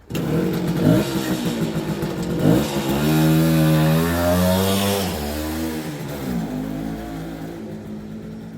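A vintage Suzuki K10 motorcycle, recently fixed for head gasket and ignition trouble, rides a test route with a loud, close two-stroke engine note that rises and falls through gear changes and revs, alone without talk.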